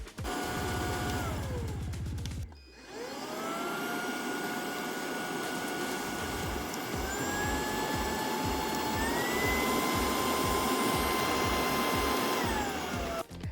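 An Ultenic vacuum cleaner hums loudly and steadily, its motor whine cutting briefly near the start, then stepping up in pitch through its speed settings before settling again at the end; no one talks.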